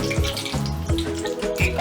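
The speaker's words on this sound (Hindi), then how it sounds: "ऑयल अच्छे से गर्म हो गया है," Curry leaves hit hot oil in a kadhai while cabbage masala is being cooked, giving a steady, close sizzle and crackle that continues for a short moment with no pause.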